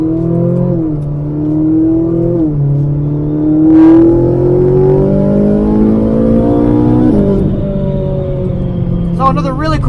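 A Ferrari 458 Italia V8 revs up and down while driving, the engine note rising and falling in several climbs heard from inside the car, with a voice talking faintly over it.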